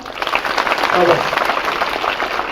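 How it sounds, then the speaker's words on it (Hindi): Audience applause at a cyber crime awareness workshop, a steady wash of many hands clapping that swells and holds for a couple of seconds, with a voice briefly audible underneath. "ताली बजाइए एक बार।"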